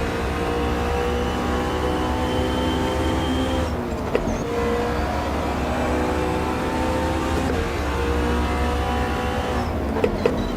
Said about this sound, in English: What a sound, like the sound of the McLaren?